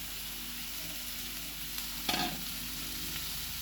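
Spiced okra curry, coated with garam masala and coriander powder, is stirred in a pan. It gives a steady close sizzle and one brief scrape of the spoon partway through, with no talking.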